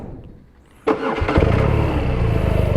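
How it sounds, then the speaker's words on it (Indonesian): A 2018 BMW R nineT Cafe Racer boxer engine cranks and catches after a quiet moment, then settles into a loud, steady, throbbing idle close by. "Kita panasin aja motor."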